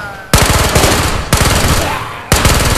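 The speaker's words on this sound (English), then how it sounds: "PPSH with armor piercing kind of just mows them down" PPSh submachine gun firing armor-piercing rounds in the Ghosts of Tabor video game: three loud, close bursts of rapid automatic fire, each a dense rattling volley, with no speech.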